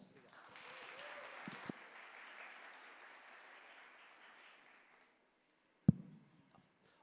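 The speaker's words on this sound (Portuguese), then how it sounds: "Uma salva de palmas." An audience at the VI SRA-LA 2025 conference claps for an incoming moderator in a large hall. The applause is fairly quiet and distant, swells briefly, then fades out gradually over several seconds before a sharp thump.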